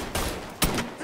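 Two bursts of gunfire from the video game Mafia 3, one after the other, loud and close with a short gap between them and no voice over them.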